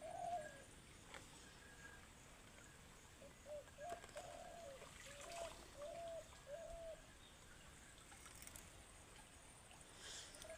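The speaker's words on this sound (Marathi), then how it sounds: "पाखरू कू कू करायला येतं." A pigeon or dove cooing in a quiet rural spot beside a clear-water stream, a short series of soft, repeated coos at moderate distance over faint ambient background.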